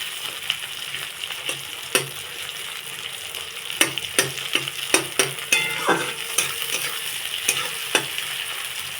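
Pieces of stingray (shankar fish) fry in a pan, with a continuous sizzle and a busy run of spatula scrapes and clacks against the metal as the fish is stirred.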